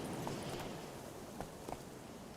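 A horse's hooves in The Witcher 3 clop faintly in a few scattered soft strikes over a steady ambient wash, distant and quiet.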